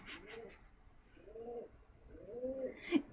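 A pigeon coos softly in a few low, throaty rolling phrases, fairly faint against a quiet background, with a brief brighter chirp near the end.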